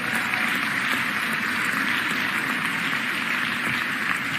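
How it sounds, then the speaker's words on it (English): An audience at a city State of the City address gives a round of applause for labor, steady broadband clapping that holds evenly for a few seconds with no speech over it. "Please give labor a huge round of applause."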